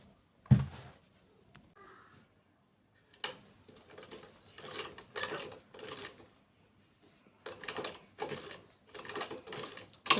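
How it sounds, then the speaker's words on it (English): A sewing machine stitches bag panels together in several short bursts of rapid mechanical ticking, separated by pauses and handling noises. "We're going to sew them both together. Just turn and you sew."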